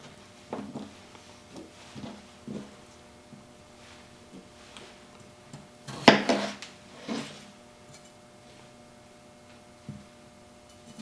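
Chopped vegetables for a vegetable beef soup drop into a pot in a few soft thuds and clatters, with one louder clunk of a utensil against the pot partway through, heard close in an otherwise quiet kitchen.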